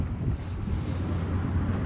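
Wind buffets an outdoor camera's microphone, producing a steady, loud low rumble with soft gusting that continues unbroken throughout, with no voices.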